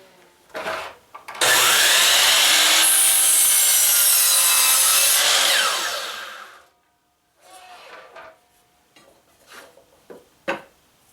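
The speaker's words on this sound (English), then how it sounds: "you're going to need to cut the ends of them at a 30-degree angle using the miter saw" A miter saw cuts the end of a 2x4 at a 30-degree angle: a loud, sustained whining cut lasting about four seconds, then the blade spins down and a few light knocks and clatters of handled wood follow.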